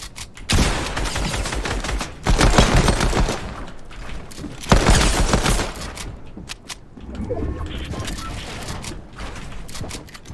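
A gold pistol fires in the video game Fortnite, with loud, dense bursts of shots in several long volleys broken by short pauses and a bit of mechanical clatter.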